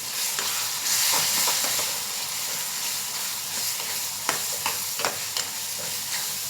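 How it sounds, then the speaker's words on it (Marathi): Spices, including red chilli powder, garam masala, kitchen king masala and coriander powder, sauté in oil in a pan with a steady close sizzle and occasional scraping stirs, with no voices. "आता मी सर्व मसाले परतून घेत आहे"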